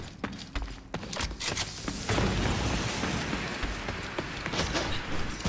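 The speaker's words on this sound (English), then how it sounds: "I'm gonna nade in there." A grenade blast in the shooter The Cycle: Frontier lands as a sudden loud boom around the two-second mark, followed by sustained rumbling noise and scattered sharp pops.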